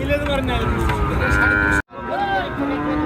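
Cattle, including young bulls, low and moo amid a busy outdoor crowd at a livestock market in Naogaon, Bangladesh, with people talking throughout and a brief cut in the middle.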